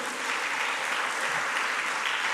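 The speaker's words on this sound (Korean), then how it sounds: "은혜 주신 하나님께 영광의 박수." Sustained applause from a church congregation, an even wash of clapping at moderate volume throughout, with no speech over it.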